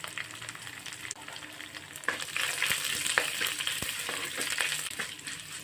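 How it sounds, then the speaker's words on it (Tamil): Cumin seeds, curry leaves and broken dried chillies sizzle steadily in hot oil in a pan while mushroom fry is prepared, a crackling hiss that swells after the first couple of seconds with sharp pops scattered throughout. "அரை ஸ்பூன் சின்ன ஜீரகம் சேர்த்துக்கலாம். இதில் 2 கருவேப்பிலை, ஒரு 3-4 வத்தல் மிளகை கிள்ளி போட்டுக்கோங்க."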